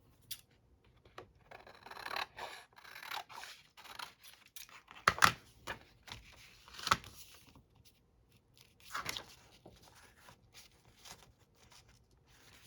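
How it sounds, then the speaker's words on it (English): A piece of junk mail paper is cut with scissors in a quiet room, several separate snips and short crunching cuts spread across the span with gaps between them, close and fairly soft. "I'm going to have to cut this piece here"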